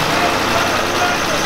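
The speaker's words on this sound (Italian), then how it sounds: "Sgasa, fai sentire!" Heavy engine of a preserved FIAT 672 N emergency truck running loud and close, a constant low diesel drone with a voice briefly heard over it.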